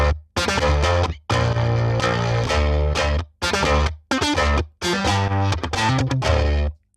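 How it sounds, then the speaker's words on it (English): A distorted baritone guitar played through a Tone King amp with heavy EQ rings out in loud sustained chords, broken by short gaps between strums. "we just have the main baritone guitar"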